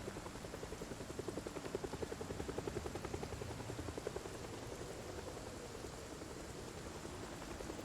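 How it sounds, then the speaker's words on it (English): Helicopter rotor chopping steadily and evenly in a video game, blending with a background wash of rain, with no talking over it. "I hear the chopper!"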